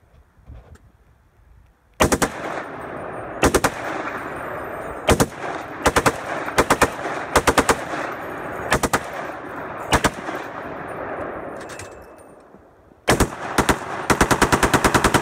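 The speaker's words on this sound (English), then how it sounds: "AXT Tactical Test of the 1919 with flash suppressor." A Browning 1919 machine gun with a flash suppressor fires loud, close bursts of rapid automatic fire, separated by short pauses, with a longer unbroken burst near the end and no talk.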